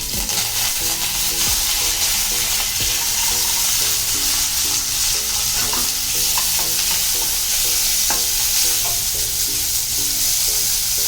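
Onions fry in hot oil with curry leaves and ginger for masala dosa, a loud, dense, steady sizzle punctuated by the repeated clink and scrape of a stirring spoon, with no talk.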